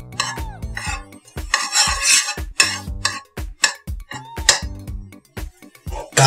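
A frying pan and other pots and cutlery clatter and scrape in a kitchen while cooking scrambled eggs, with repeated sharp metallic knocks and rattles, loud and close, in an uneven rhythm throughout.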